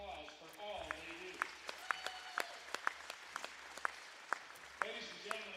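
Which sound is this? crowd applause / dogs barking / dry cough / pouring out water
crowd applause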